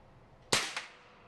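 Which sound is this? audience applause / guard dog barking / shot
shot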